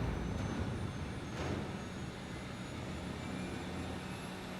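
A spaceship engine hums in The Outer Worlds video game, a steady, droning rumble that holds without change throughout, alone with no talk over it.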